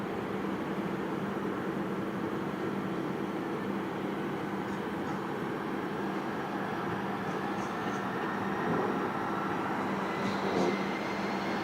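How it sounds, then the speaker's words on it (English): Alaska Airlines jet at PDX airport in Portland, a steady engine roar and hum close by with a constant broadband rush, no voices heard. "it's noisier on this side because we are, I mean, it feels like I could throw a paper airplane and hit that Alaska jet in front of me"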